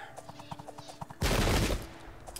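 A musket volley in the strategy video game Pike and Shot Campaigns: a dense, loud burst of massed gunfire lasting about half a second, following a light rhythmic patter of game sounds.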